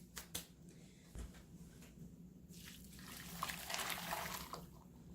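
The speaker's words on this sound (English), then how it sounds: "we're going to take that juice, that deglaze that we did in the pot we seared the roast in, and pour it on top" Deglazed pan juice poured over a seared pork roast in a crockpot, a faint trickling and splashing that builds toward the end, preceded by a few soft clicks and taps.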